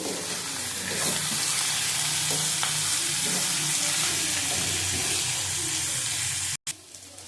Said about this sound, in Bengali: দুটো কাঁচা লঙ্কা দেবো, কেটে দেবো, ভালো করে ভেজে নেবো